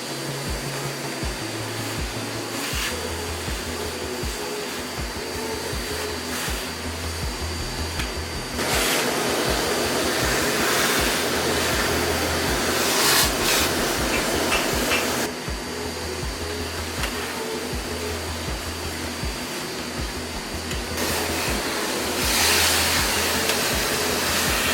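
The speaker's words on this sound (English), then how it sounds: "I gave it a really, really good vacuum to get rid of any last dust before applying the new finish" A vacuum cleaner removes dust from a wooden chair during restoration, a loud continuous motor whine and airy suction roar that shifts in pitch and intensity as the nozzle moves over the wood.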